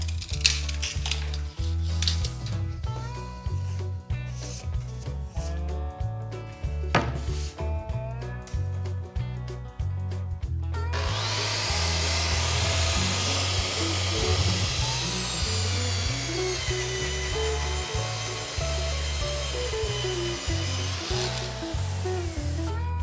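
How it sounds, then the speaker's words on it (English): A track saw rips through two pieces of wood clamped back to back, its loud steady whine starting partway in and running continuously to the end over an underlying rhythmic backing. "I'm going to just cut them with my track saw"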